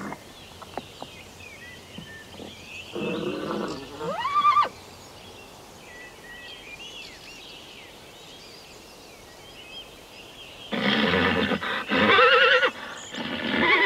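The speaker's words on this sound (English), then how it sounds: "counting the wild tarpon horses is first up on his agenda" Wild tarpan horses in a Baltic coast nature reserve whinny and neigh loudly in two drawn-out bursts, one early and one near the end, over a steady outdoor background.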